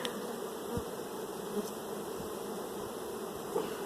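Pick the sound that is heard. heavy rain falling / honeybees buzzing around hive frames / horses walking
honeybees buzzing around hive frames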